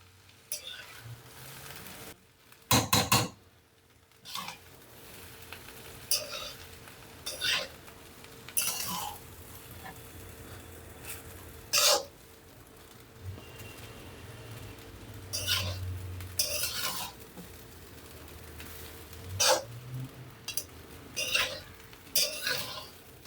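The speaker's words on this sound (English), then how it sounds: "we are mixing the veggies and the rice properly" A spatula scrapes and clanks against a pan while veggies and overnight-cooked rice are mixed for street-style fried rice, with irregular metallic knocks over a low kitchen hum and occasional faint voice.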